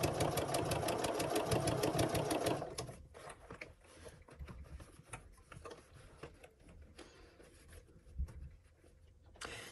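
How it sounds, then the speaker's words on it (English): A sewing machine stitches an oven mitt in short runs, a loud rapid rhythmic whir for the first few seconds, then quieter pauses and brief bursts as the fabric is repositioned. "when you stitch a little bit, reposition it, stitch a little bit more"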